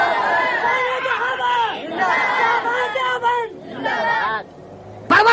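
A crowd at a 1985 religious gathering in Korangi, Karachi, chants slogans in loud unison, phrases rising and falling in waves with short breaks between them.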